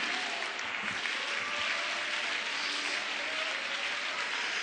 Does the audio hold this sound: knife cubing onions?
no